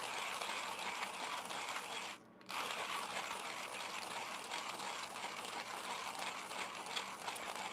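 A hand coffee grinder set nine clicks fine grinds beans in a steady, dense crunching rattle up close, broken by one brief pause midway before the grinding resumes.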